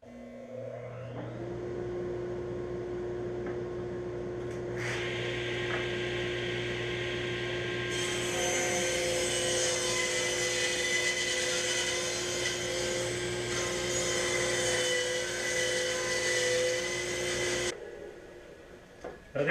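A table saw rips wood boards down to an inch and a quarter wide for a segmented vase, a steady whining blade drone with a constant motor hum running for most of the clip before winding down at the end.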